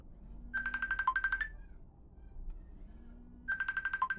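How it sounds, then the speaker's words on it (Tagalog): A Facebook Messenger call notification rings on a Huawei Band 10: a quick electronic ringtone phrase plays, pauses for about two seconds, then repeats, fairly quiet with faint room noise. "Makaka-receive tayo ng call notification."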